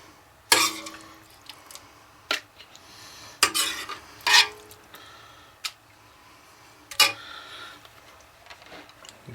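Meat and sauce mixture for an easy budget lasagna is spooned into the pan: a series of sharp separate clinks and scrapes of a utensil against the dish, spaced irregularly over a quiet background.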